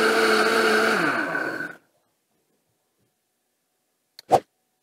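A Vitamix blender runs loud and close for about two seconds, its motor pitch winding down as it shuts off, followed by silence and a single short knock.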